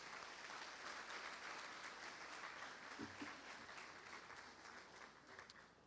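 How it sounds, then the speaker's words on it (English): A crowd claps steadily throughout at a high school football awards banquet, a sustained, even wash of applause heard from a slight distance, with no speech over it. "A nice round of applause for everybody,"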